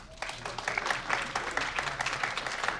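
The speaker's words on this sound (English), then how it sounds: "Let's give her a round of applause." Audience applause at a board meeting, a short, dense patter of many hands clapping at moderate loudness throughout.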